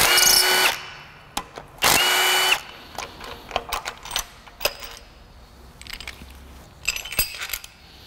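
Power tool working on the cam retainers of a Honda K-series engine head: two short loud buzzing bursts of the driver, then scattered metallic clinks and rattles of small parts being handled.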